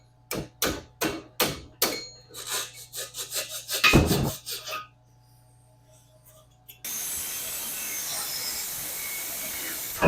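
A hand saw cutting through a tough metal tube while building a Honda Shadow chopper frame: a run of rhythmic rasping strokes that quicken and swell, then quiet, followed by a steady hiss.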